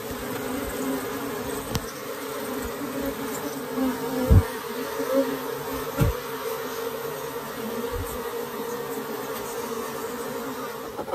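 A colony of Japanese honeybees buzzes in a dense, steady drone while honey is harvested from a stacked hive box, with a few brief louder bursts as bees pass close.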